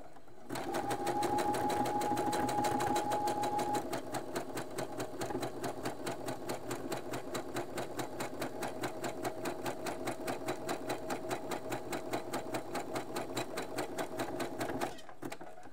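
A sewing machine stitching elastic onto jersey fabric for underwear, a close, steady rapid rattle of needle strokes running continuously for about fifteen seconds before stopping.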